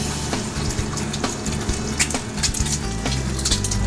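Food frying in very hot oil, with a dense, steady sizzle and crackle close up, joined by occasional pops, stirring and a faint clink of utensils against the pan throughout.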